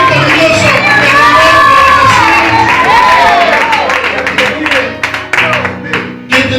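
A church congregation at a worship service shouts and cries out to God together, a loud, continuous wash of overlapping voices with scattered claps and outbursts that thins and turns choppy toward the end.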